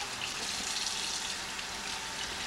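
Tap water running steadily into a kitchen sink as food is rinsed, a constant soft hiss and splash with no speech over it.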